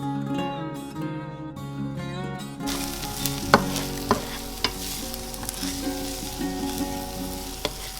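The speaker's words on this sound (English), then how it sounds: "I heated a pan and added avocado oil, and then I added onion and sauteed it for a couple of minutes." Onion sautéing in avocado oil in a heated pan gives a steady close sizzle and frying hiss, with clinks and stirring taps from a utensil scattered throughout.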